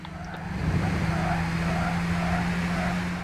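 Tires squeal and skid from a car in the racing video game Gran Turismo 6, layered over a steady droning engine note that runs loud and continuous throughout.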